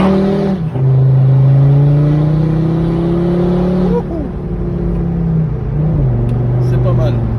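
A Volvo V50 R-Design turbo diesel, stage 1+ tuned with an Akrapovic full exhaust, accelerates hard from close inside the cabin, its engine note climbing steadily through gears with shift dips and a humming drone throughout.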